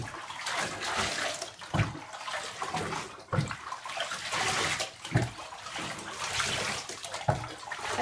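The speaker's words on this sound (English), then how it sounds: "we're going to rinse her off completely" A small Shorkie dog is rinsed with water in a bath. A continuous, moderately quiet spray of running water is broken by periodic splashes and thumps as the water hits the dog and the tub.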